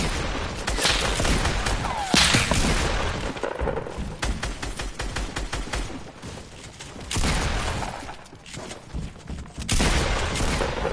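Rapid bursts of gunfire in Fortnite, loud and dense with overlapping shots and booms, broken by short pauses and continuing for the whole stretch.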